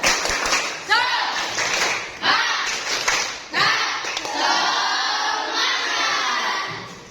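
A school class performs the 'tepuk semangat' clapping chant, a burst of rhythmic group claps and taps mixed with loud children's chanting voices, ending in a sustained crowd shout.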